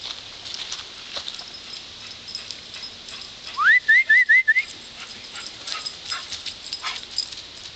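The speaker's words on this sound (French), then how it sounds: "Tiens, trouver un chien." A dog whimpers in a quick series of high, rising whines, five or six short cries close by, amid light shuffling and background noise.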